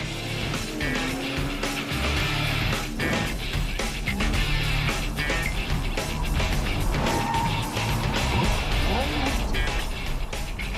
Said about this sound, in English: we could hear the massive over-rev of the engine